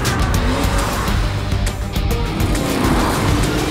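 A cartoon car crashes and its tires squeal loudly, a dense roaring skid of screeching rubber and engine noise that runs continuously and close throughout.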